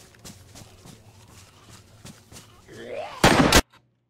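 A loud, sharp gunshot blast rings out near the end of a zombie video game session, following quieter game sounds and a voice talking in the background.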